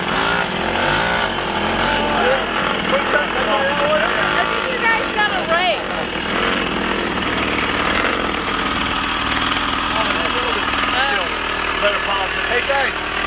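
A two-stroke moped engine runs steadily in a shop, a loud continuous buzzing drone throughout with faint voices underneath.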